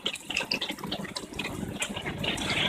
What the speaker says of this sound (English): When the water fills in, it comes to a certain level, and after that the water pumps out automatically.